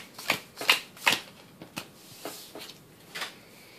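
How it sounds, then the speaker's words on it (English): Trading cards from a Magic: The Gathering deck shuffled in several quick riffling bursts, crisp papery rustles close by, loudest early and then tapering into softer, scattered flicks. "Apparently I don't know how to shuffle because I pretty much just shuffled the same hand."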